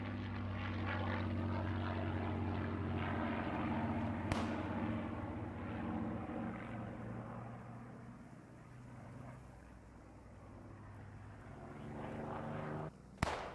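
A World War II propeller aircraft passes overhead during the Market Garden campaign at Driel, a loud, droning engine roar that slowly fades, then ends in a sudden sharp crack, with no talk.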